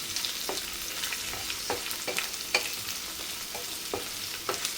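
Onions, green chillies and curry leaves sizzle in hot oil, a close, even frying hiss with regular spatula scrapes and taps as they are stirred.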